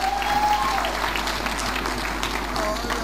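A church congregation clapping their hands for Jesus during a testimony time; the dense, steady clapping holds for a few seconds at moderate volume, with faint tones and room noise behind it.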